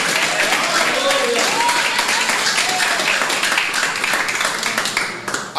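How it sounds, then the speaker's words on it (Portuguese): A church congregation applauds during a preaching service, a dense, continuous wash of clapping that fills the room at steady loudness while a voice carries on over it. "E as palmas para Jesus."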